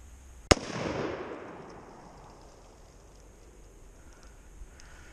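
A single very loud, close gunshot from a .460 Magnum revolver cracks sharply outdoors, then a long reverberating boom rolls away and fades over several seconds into quiet.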